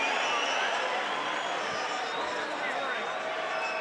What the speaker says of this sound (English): Listen to the crowd, Dave.